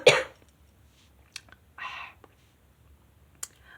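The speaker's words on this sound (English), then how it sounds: "Excuse me, I need to cough." A single short cough bursts out loud at the start, followed by a few faint clicks, a brief breathy rustle and a sharp tick near the end in an otherwise quiet room.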